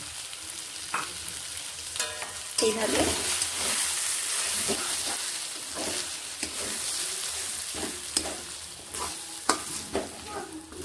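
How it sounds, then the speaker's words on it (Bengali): Green pea paste for kachori filling is stirred as it fries in a kadai, giving a steady close sizzle with frequent spatula scrapes and knocks against the pan. Someone speaks briefly over it. "এবার এখানে দিয়ে নিচ্ছি কড়াইশুঁটি পেস্টগুলো"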